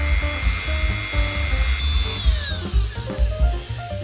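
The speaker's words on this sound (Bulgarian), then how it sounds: "С помощта на дремела ще изпиля острите ръбчета." A Dremel rotary tool with a grinding stone whines at high speed while filing sharp edges on the metal cylinder of a 2-ton hydraulic jack being repaired. The close, loud whirr rises and falls in pitch as it bites into the metal.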